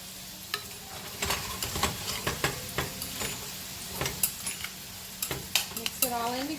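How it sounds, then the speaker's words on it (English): Peppers stirred in a hot pan, an utensil scraping and clacking against the metal in irregular strokes over a soft, constant sizzle, close and fairly quiet with no talking. "And we're going to stir."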